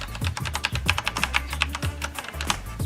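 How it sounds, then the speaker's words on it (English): Fast, steady typing on a Corsair K70 mechanical keyboard with Cherry MX Red switches, a close, dense patter of light keystroke clacks with occasional heavier key thumps and no talking. "I've got the cherry red MX switches, which make really nice clicking noises."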